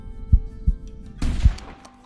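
A rifle shot fired at a pronghorn during a long-range Texas hunt in a hunting video game, a sharp single crack with a rolling tail amid a few low thumps, moderately loud, with no talking.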